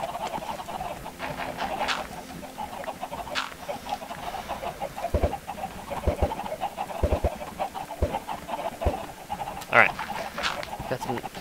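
Video game chickens cluck and squawk repeatedly near a farm, irregular calls scattered over a quiet background along with other game clicks and taps.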